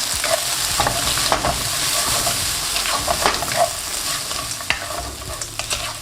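Fries and onions stirred in a hot frying pan with a sizzle underneath, while a utensil scrapes and taps the pan in an irregular rhythm, close and moderately loud, with no talk.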